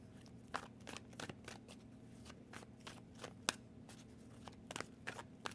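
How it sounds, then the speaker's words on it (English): Tarot cards being shuffled by hand, a string of crisp riffling snaps and soft slides at an uneven rhythm, close but fairly quiet, with no speech. "I'm going to pull some actual tarot cards over these"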